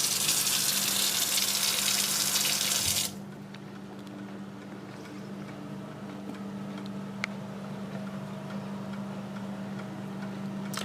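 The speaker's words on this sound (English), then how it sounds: "you just grab the hose and just spray it down in the corners" Water from a hose sprayer rinses an American Standard Memphis single-bowl sink as a steady broadband hiss. It stops abruptly after about three seconds, leaving a quiet room with a low hum.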